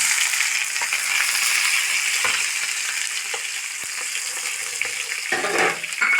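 Shallots sizzle and fry steadily in a pan for a chicken curry, a bright continuous crackle with occasional stirring scrapes and small clinks near the end.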